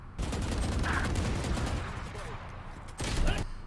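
Rapid bursts of gunfire from a tactical shooter match on the Bind map, a dense volley of shots for the first two and a half seconds, then a fresh loud burst near the end, with a voice briefly audible.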